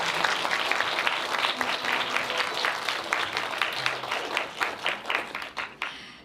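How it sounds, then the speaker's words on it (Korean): An audience applauds at the opening of a 2025 district children's and youth policy proposal contest, giving steady, fairly close clapping that thins into scattered separate claps near the end. "여러분의 힘찬 박수로 오늘 시작을 함께 했습니다."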